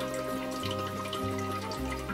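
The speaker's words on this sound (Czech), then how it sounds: "Beru do ruky Egerie Denzu a propláchnu ji v té vodě" Egeria densa aquarium plant rinsed by hand in water, a steady close splashing and trickling wash with a low hum underneath, no voices.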